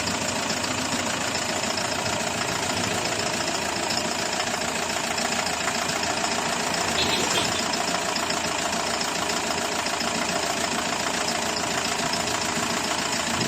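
A Hyundai D4CB diesel engine in a Bongo truck runs at a steady idle after being reassembled, with no misfire. Its dense mechanical clatter and hum stay loud and continuous throughout.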